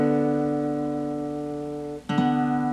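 Guitar lick in second position on the 3rd and 4th strings: two strings ring together and slowly decay, then a single new pluck sounds near the end, close and unaccompanied.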